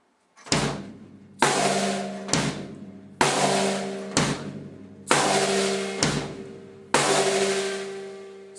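A simple drum kit beat with the bass drum on beats one and three and the snare on two and four, about eight strong, evenly spaced hits, each ringing out before the next.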